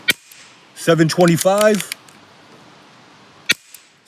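An AEA HP SS air rifle fires H&N Hornets and Predator Polymags pellets: one sharp crack at the start and another a few seconds later, close and loud, with someone briefly speaking between the shots.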